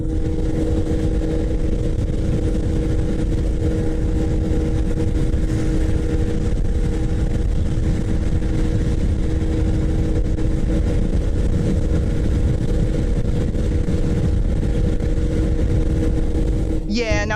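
Honda ADV160 scooter engine held at full throttle while climbing uphill, a steady loud drone with wind rush running throughout, close to the rider.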